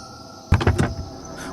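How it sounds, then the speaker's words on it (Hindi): A van door slams shut with a solid thud, followed by a quick mechanical click of the lock, a short close burst standing alone against quiet background. "वो दौड़कर वैन के अंदर घुसा और दरवाजा लॉक कर दिया।"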